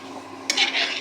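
Fish curry in a pot is stirred once, a soft simmering bubble under a brief utensil scrape and rattle against the pot, quiet and close.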